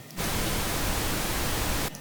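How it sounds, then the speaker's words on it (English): A steady burst of pink noise test signal for mixing and mastering, broadband hiss that starts abruptly, holds at an even level for nearly two seconds, then cuts off, with no voices. "Now, this is pink noise over here."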